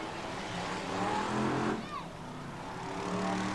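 BriSCA Formula 1 stock cars race around the Skegness oval, a blended roar of engines rising and falling at a distance, with a commentator talking over it.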